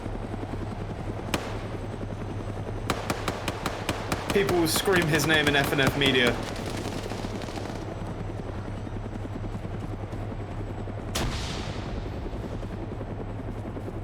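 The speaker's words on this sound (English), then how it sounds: "He's sick and tired of being locked in that helicopter." Helicopter rotor drone during a competitive online shooter match, a steady low hum under a commentator talking, broken by a rapid burst of gunfire and a few sharp isolated shots.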